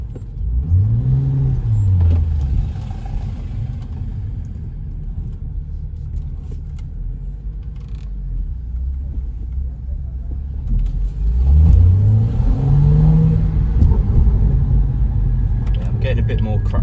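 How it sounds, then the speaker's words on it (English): A 2015 BMW M235i 3.0-litre manual coupe's exhaust, deep rumbling engine that rises in rev sweeps near the start and again later, with someone talking over the drone. "I do feel like it's got a bit more cracks and pops here now"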